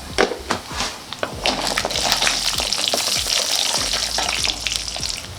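Seeds pop and crackle in hot oil, a dense continuous sizzle with sharp little bursts scattered throughout, close up.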